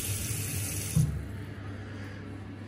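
Water runs steadily from a bathroom sink faucet as a broad, close hiss, thinning partway through, with no voices.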